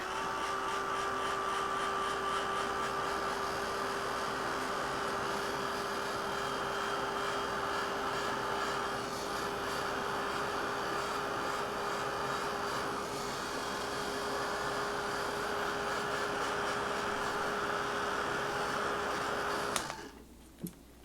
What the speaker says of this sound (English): So I'm going to take my heat gun and dry it.